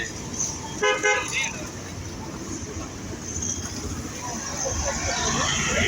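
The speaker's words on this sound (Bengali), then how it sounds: "অনেক সুন্দরভাবে গাড়ি ঘোড়া যাইতেছে" City road traffic at the Matir Dali crossing in Bogura, Bangladesh: a car horn toots twice early on over a continuous rumble of passing vehicles and background crowd babble.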